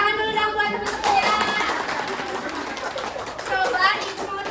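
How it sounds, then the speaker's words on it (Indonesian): Schoolchildren in a classroom clap for their classmates, with broadband patter running through most of the stretch under kids' chatter and cheering, and a louder burst near the end. "Kasih tepuk tangan dulu dong buat teman-temannya"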